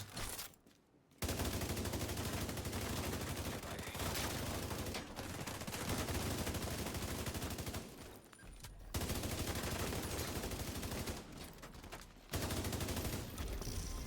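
Sustained automatic weapon fire in the shooter The Division 2, loud and nearly continuous, broken by three short pauses between long bursts.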